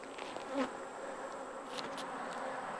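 Agitated honeybees buzz at an apiary hive in September, just after a large hatch-out: a faint, steady, even drone of many wings with no voices.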